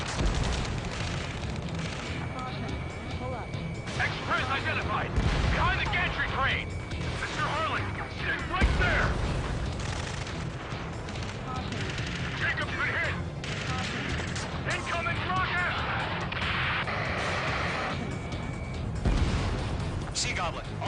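Gunfire and explosions from the Ace Combat 7 video game form a continuous dense barrage of shots, bursts and blasts under frequent shouted radio chatter from soldiers.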